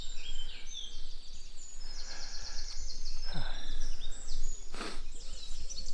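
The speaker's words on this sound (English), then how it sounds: "you can hear me and the birds in the Fenland wild forest" Birds chirp and sing in a foggy Fenland wild forest. The high calls are faint and distant but come almost without a break over a quiet outdoor hush.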